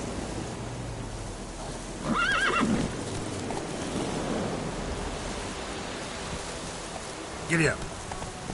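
A horse in The Witcher 3 gives two sharp whinnies, one near the start and another late, over a steady hiss of ambient noise with faint hoof clops underneath.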